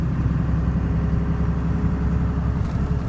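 A car being test-driven after an automatic-to-Getrag manual transmission conversion gives a loud, steady engine drone with road rumble, continuous and close from inside the cabin, with no voices.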